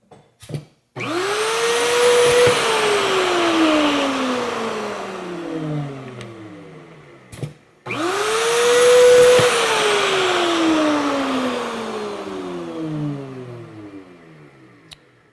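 A Hoffmann dovetail machine cuts a 3-way miter joint 10 mm deep in two loud, close runs. Each run is a motor spinning up into a cutting whine and winding down, with a brief clunk between runs.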